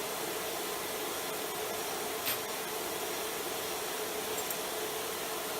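A sheep-shearing cutter is ground on a red emery disc by an Expert pendulum grinder, a steady, loud, broadband whirring hiss with a faint brief scrape partway through and no talk.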